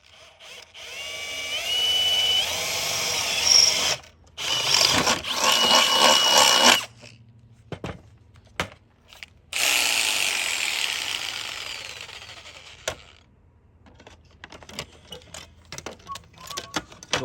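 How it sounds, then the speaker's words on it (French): A hacksaw blade cuts a circle in thin, flexible aluminium sheet. Loud, close sawing comes in long bursts separated by gaps, then turns into a scatter of shorter sharp strokes near the end. "avec la lame de scie à métaux, on va découper tranquillement le cercle sur la tôle à lustrier"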